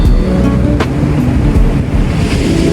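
Ocean waves roll in near a beach resort at Dianao Beach in Aurora, heard from a small boat waiting to ride a wave: a steady, loud wash of surf with gusty wind buffeting the microphone throughout.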